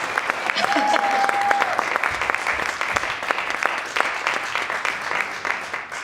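Audience applause for speakers at an AGSA Conference 2025 panel, a steady wash of clapping hands filling the room throughout, moderately loud, with a brief voice or tone showing faintly early on.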